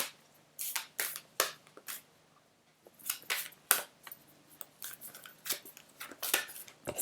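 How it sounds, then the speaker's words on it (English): A deck of cards is shuffled close by indoors, giving a series of quick, dry riffling and flicking bursts in irregular rhythm, fairly quiet, with no talking. "Let's give him a shuffle, Jasper."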